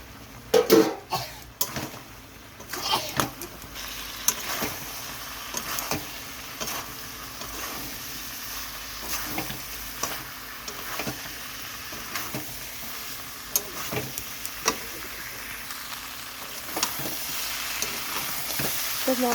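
Jackfruit frying and stirring with spices in a pan, a steady sizzle with frequent scraping stirs throughout, close and moderately loud.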